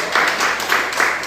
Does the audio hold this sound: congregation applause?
yes